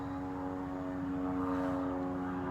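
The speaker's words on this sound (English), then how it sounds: "it's just a helicopter" A loud, steady helicopter engine drone with a constant hum fills the air overhead, unbroken and close, as it passes low.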